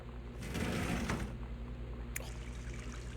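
Water in the game Gone Home runs and splashes for about a second over a steady low hum, then trickles off, leaving a quiet mechanical background and a brief click.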